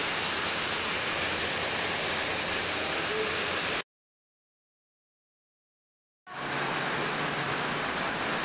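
Loud, steady rushing floodwater from a typhoon in Mindanao fills the air, cut by a few seconds of total silence before the torrent resumes.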